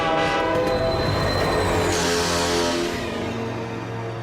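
A cartoon express train pulls in, its horn blaring loud and sustained over the rumbling, rattling of rail cars, the whole sound steady and close before easing slightly as it slows.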